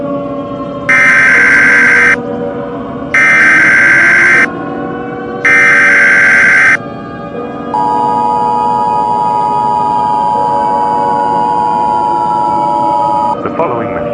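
Emergency Alert System broadcast: three loud, evenly spaced bursts of the harsh two-tone attention signal, followed by a long steady high alert tone, with a voice faintly underneath.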